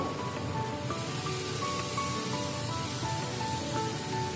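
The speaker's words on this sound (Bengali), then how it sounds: "এবারে আমি মশলাটাকে একটু নাড়তে থাকবো। মশলাটা কিছুক্ষণ ধরে কষতে থাকবো।" Spice paste with green chilli for paneer bhurji fries in a pan while being stirred, giving a loud, steady hissing sizzle with faint scrapes.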